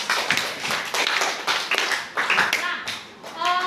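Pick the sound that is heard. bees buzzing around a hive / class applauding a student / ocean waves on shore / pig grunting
class applauding a student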